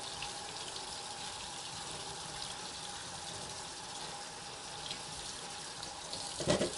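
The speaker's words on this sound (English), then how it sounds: "We always want to wash beforehand. Washing, washing." Kitchen tap water runs steadily into a sink while food is rinsed in a colander, a constant soft splashing rush with a brief clatter near the end; moderately faint, no talking.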